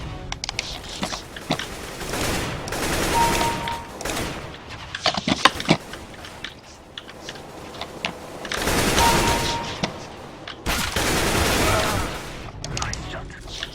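Bursts of video game gunfire come in several loud clusters with quieter gaps between them, mixed with short pops and faint voices in the background.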